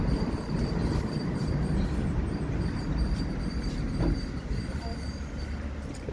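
A Christchurch, New Zealand tram rumbles steadily along its rails, wheels humming and clattering at close range, with a faint high squeal riding over the continuous noise.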